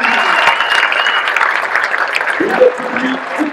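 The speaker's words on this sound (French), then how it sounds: "Les applaudissements pour Lotte Kopecky" Outdoor crowd applauding cyclist Lotte Kopecky at the start of the Tour de France Femmes in La Gacilly, loud continuous clapping with cheers and a voice over a public address system mixed in.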